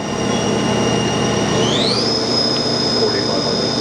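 Spindle of a TRAK vertical machining center speeding up: a loud, steady machine hum with high whining tones that glide upward, then settle at a higher pitch, heard without talking.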